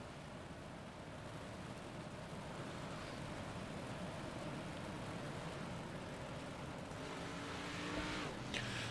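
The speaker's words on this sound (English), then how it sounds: "So the drivers will bring the cars out onto the track." Race cars roll out onto the track for a parade lap, a dense, continuous engine drone with no breaks from start to finish, slightly rising near the end, with no talk over it.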